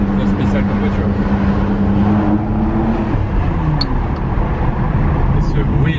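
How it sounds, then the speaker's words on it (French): A Ferrari with a manual gearbox drones up close from inside the car, and its engine note drops sharply partway through as a gear change goes in. Road noise sits underneath throughout. "Et ce bruit là de métal quand vous passez la vitesse, c'est ouf."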